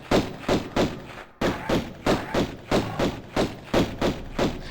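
Gunfire at a bear in the Tomb Raider I Remastered video game, a steady run of about a dozen evenly spaced muffled shots with a brief gap near the start.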